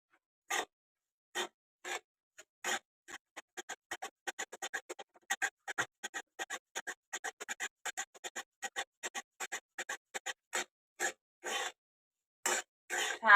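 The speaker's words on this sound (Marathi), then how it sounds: "छान एकसारखं हलवत राहायचं म्हणजे रव्याचा कच्चा पण जातो निघून." Semolina roasts in ghee for ladoo while a utensil stirs it in the pan, giving short dry scraping strokes in an uneven rhythm, close and fairly quiet with brief pauses between them.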